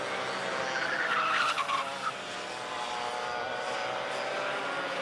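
Race cars circle a drying, warming circuit at Fulbeck during a round of the 2022 Daniel Ricciardo Series, engines roaring steadily in a continuous wash of noise, with a brief tire squeal near the start.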